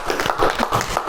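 A classroom of students applauds a classmate, giving a brief, dense burst of close hand clapping with no talk over it.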